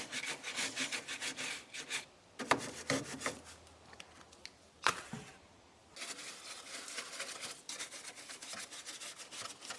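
Cloth wiping cleaner off the engine bay of a VW GTI, rapid rhythmic rubbing strokes in bursts with short pauses, close and fairly quiet.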